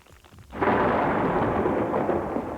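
Blasting caps detonated electrically at a demolition site go off in one heavy, booming explosion that starts abruptly and rolls on as a loud, sustained rumble, heard without any voices.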